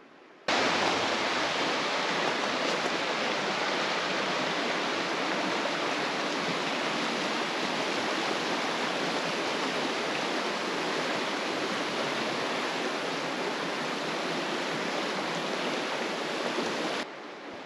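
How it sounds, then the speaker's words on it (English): The Logan River in Utah flowing steadily, a loud, continuous broadband rush of water that holds even and unbroken from start to finish, with no voices. "So, we're gonna relax on the Logan River"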